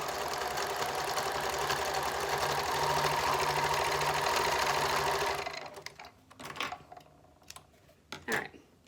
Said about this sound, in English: Now I'm going to sew the other side.